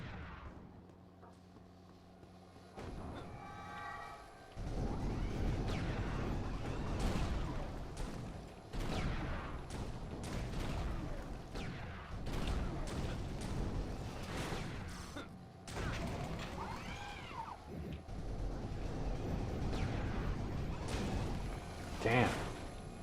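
Cannon fire in Lego Star Wars III: The Clone Wars comes as repeated booming blasts and sharp bursts in dense, uneven bursts, with mechanical clatter and whooshes layered throughout the battle.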